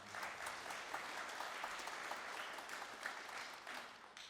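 A crowd at a jazz ensemble concert claps steadily for several seconds, a dense, even patter of applause heard from a little distance.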